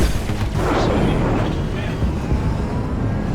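Ship weapons firing in Star Citizen's Arena Commander, mixing ballistic and energy guns, make a dense, loud barrage of booming blasts that runs continuously through the whole stretch.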